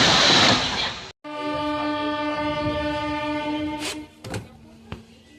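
The Agniveena Express passes alongside a moving local MEMU train near a station, with a loud rush of air giving way to sustained horn-like tonal hum over rumbling wheels, followed by a few sharp clacks as it fades.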